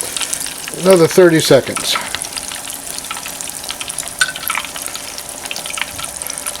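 Meatballs flash frying in hot oil in a pan, a steady close sizzle and bubbling, with a brief spoken remark early on over the frying.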